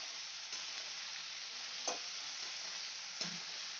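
Vegetables (flat beans, potato, eggplant with salt and turmeric) sautéing steadily in a pan, a continuous hiss with a few soft stirring knocks, no voices.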